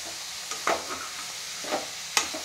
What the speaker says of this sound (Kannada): ಇದು ಮಿನಿಮಮ್ 1 ನಿಮಿಷನಾದರೂ ಫ್ರೈ ಮಾಡ್ಕೊಬೇಕಾಗತ್ತೆ.